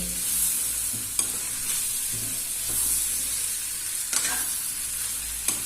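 Chicken curry sizzling and frying in masala in a pan while it is stirred and tossed, with steady hiss and repeated scraping strokes close by.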